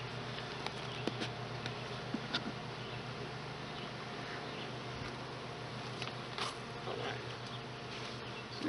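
Bees hum softly around an opened hive during an inspection, a faint steady drone with a few passing buzzes and light scraping clicks, no talking.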